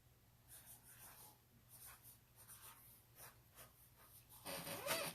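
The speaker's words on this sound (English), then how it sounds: "I'm going to write this word on here." Marker or chalk strokes on a classroom board, a series of short scratchy bursts across several seconds, with a louder rustle near the end.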